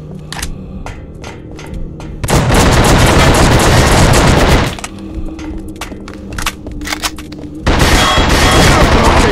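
Loud bursts of automatic gunfire from the video game The Suffering, two long sustained volleys broken by sharper scattered shots and distant crackling.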